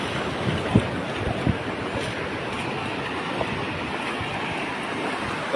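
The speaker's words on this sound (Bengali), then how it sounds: "অনেক বড় বড় ঢেউ আসতেছে" Big ocean waves breaking and washing up on the beach at Kuakata, a steady loud roar of surf with a few sharper crashes near the start, no voices.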